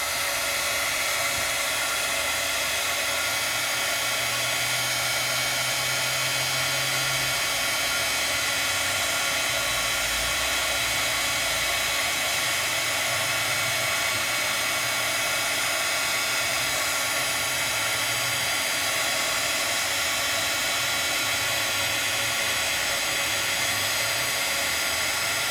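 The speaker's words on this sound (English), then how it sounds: "Heat tool, not a blow dryer." A heat tool, not a blow dryer, runs continuously to dry pigment ink on a craft surface, producing a steady even airy whir with a low motor hum, moderately loud and unbroken, with no talking.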